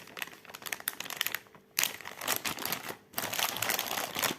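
Wax seal craft products from PandaHall are pulled out of a plastic sachet, with loud, close crinkling and rustling of plastic in bursts, broken by two brief pauses, and no voice over it.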